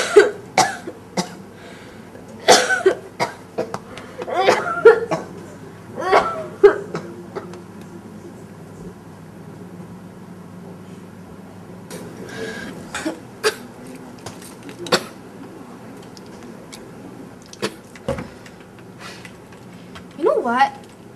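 A girl coughs repeatedly in harsh bursts and throat-clearing sounds, scattered through a quiet stretch with some talking mixed in.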